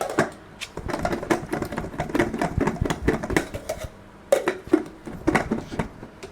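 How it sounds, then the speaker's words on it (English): An air fryer pan with its lid on is shaken hard, giving a fast, busy clatter of food rattling and tumbling against metal in uneven bursts with a brief pause partway through. "Then I'm going to put the pan lid on, and then we're going to give it a good shake"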